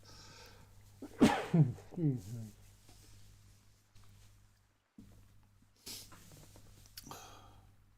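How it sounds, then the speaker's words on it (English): A single person sneezes loudly and close by, a sharp burst followed by a short trailing breath, with quieter rustling and a couple of small knocks afterward against a steady low hum. "I think I'm going to sneeze"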